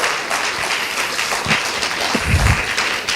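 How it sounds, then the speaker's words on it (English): Conference audience applauding a colleague's promotion, a steady wash of clapping from many hands held at an even level for the whole stretch. "maybe another applause for Mary's promotion"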